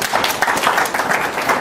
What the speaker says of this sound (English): Clap up for Almighty God.